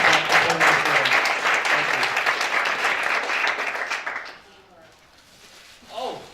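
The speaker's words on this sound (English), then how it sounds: "one more round of applause for all of you for coming out." A room of attendees at an evening idea-pitch event gives a round of applause, loud clapping for about four seconds that fades out, followed by near quiet and a brief voice at the end.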